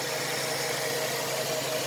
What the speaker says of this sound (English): Here's the motor running.